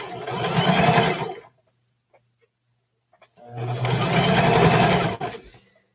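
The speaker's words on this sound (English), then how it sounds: "Go ahead and do a back stitch." A domestic sewing machine sewing a back stitch on shorts: two steady, close whirring runs of about a second and a half each, separated by a quiet pause of nearly two seconds.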